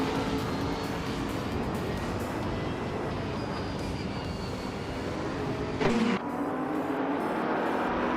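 Racing cars, including a 2018 Ferrari 488 GT, roar at the start of a video game race at Automotodrom Grobnik, a steady loud engine drone with a sharp brief burst near the end.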